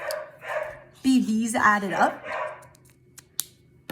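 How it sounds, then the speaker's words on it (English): Dogs barking in the background of a home, a few sharp barks and yips rising over a person speaking nearby, with a couple of quick clicks at the end. "Sorry about my dogs in the background."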